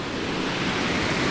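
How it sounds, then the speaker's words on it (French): A small roadside waterfall in Liguria, Italy, rushing as a steady, dense wash of water noise with no pauses. "Petite cascade sympathique."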